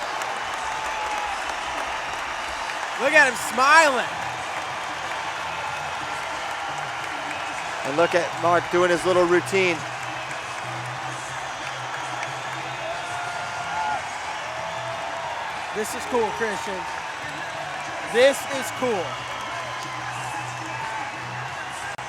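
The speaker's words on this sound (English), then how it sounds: "Standing ovation, the crowd getting rowdy and up to his feet right away." A home crowd at a Penn State vs Oklahoma State college wrestling meet cheers and applauds in a continuous roar, with loud whoops rising in bursts, while commentators talk over it throughout.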